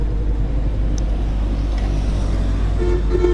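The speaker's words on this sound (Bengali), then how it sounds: "দেখেন কি পরিমাণের গাড়ির চাপ" Heavy road traffic roars steadily up close, with a car horn honking briefly near the end over the constant engine rumble.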